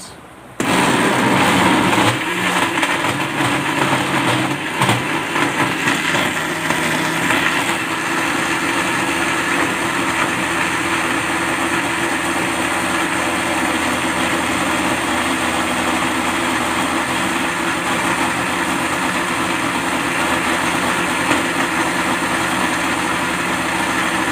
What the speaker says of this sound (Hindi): अब हम इसको कर लेंगे ग्राइंड।